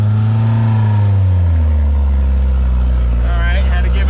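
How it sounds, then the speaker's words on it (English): A Suzuki Samurai engine revs under light throttle during off-road testing: a loud, close, steady drone whose pitch slides down, then settles into a low, strained hum. "I'm slightly on the throttle."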